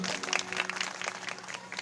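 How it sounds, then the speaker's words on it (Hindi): An audience clapping at a religious discourse in a Gondi village gathering, a short burst of dense, even applause heard from nearby under a faint hum. "बजाओ तालियां"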